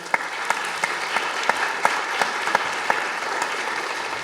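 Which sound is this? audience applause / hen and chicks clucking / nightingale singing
audience applause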